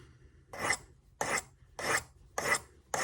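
A knife blade stroked across a sharpening stone, five even rasping passes about half a second apart, close and fairly quiet, with no talk.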